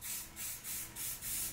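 Short bursts of orange spray paint hissing from an aerosol can onto a vintage snow blower's skid shoe, five even pulses in quick rhythm, close and steady with no talking.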